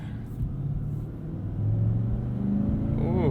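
A Nissan Titan Pro-4X pickup engine revs, a low rumbling drone that swells and rises in pitch partway through, heard close from inside the cab.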